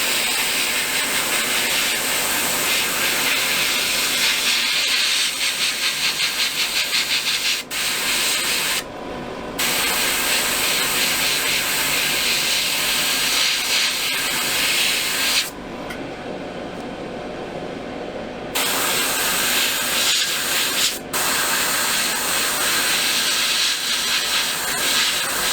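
An airbrush sprays paint onto a Zvezda 1/48 SU-57 scale model, a close, steady hiss running in long bursts with a few short pauses between passes.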